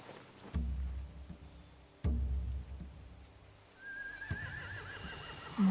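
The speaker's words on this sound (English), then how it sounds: "They have horses." Horses whinny in a video game, two loud neighs a second or so apart followed by a third, with a rising whistly whinny trailing off over a steady ambient backdrop.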